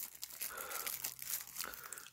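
Packaging from a 1980s new-old-stock Chinese Youth 400 fountain pen is torn and crinkled open, a steady close-up rustle of crackling wrapper lasting about two seconds with no talk.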